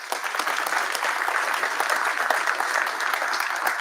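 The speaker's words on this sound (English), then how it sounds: "give yourselves a round of applause" Audience at an economic development bill signing giving a loud, sustained round of applause, dense clapping holding steady throughout.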